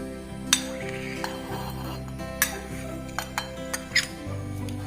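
A spoon mixes ground turmeric, cumin and chili powder into peas in a bowl, with a handful of scattered metallic clinks and taps against the dish over a low steady hum.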